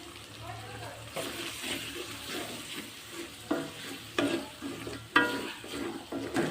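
Whole spices such as bay leaf, cardamom, cinnamon, peppercorns and cloves with ground spice paste stir-fried for beef curry, a soft steady sizzle broken by repeated scraping and clinking stirs.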